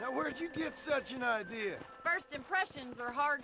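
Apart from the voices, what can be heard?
No everyday noise stands out behind the speech.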